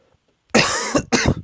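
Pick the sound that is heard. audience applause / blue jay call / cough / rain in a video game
cough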